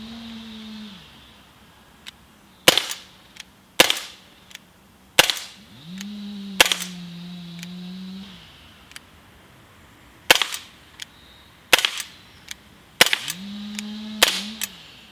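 An Umarex SA10 CO2 air pistol fires flat nose Bisley pellets at targets about seven to eight yards away, giving around ten sharp, close cracks at irregular intervals, some followed by faint metallic pings, with a low hum between shots.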